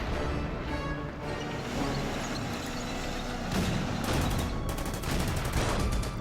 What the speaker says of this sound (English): Let's use some artillery on that one.